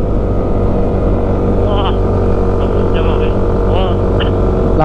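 A motorcycle engine drones loudly and steadily with the throttle held open on a long uphill climb on a touring ride, a constant rumble with faint whining tones on top.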